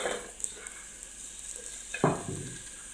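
Onions hitting hot olive oil in a pan, a sharp burst of sizzling that flares up partway through and keeps crackling softly, preceded by faint stirring and frying sounds with no talk.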